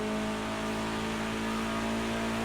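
Engine of a BMW 320 TC (E90) touring car in Project Cars 2 at Bathurst, holding a steady, loud, buzzing drone at high revs under acceleration, close and continuous with no voices.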